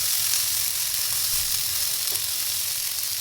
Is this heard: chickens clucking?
no